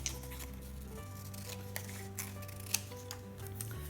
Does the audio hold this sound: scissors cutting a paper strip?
yes